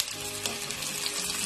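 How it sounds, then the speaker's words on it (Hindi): Onions sauté in a pan for a mutton masoor dal, giving a dense, even sizzle heard up close and alone throughout the short stretch. "इसको 2 मिनट के लिए सौते करेंगे।"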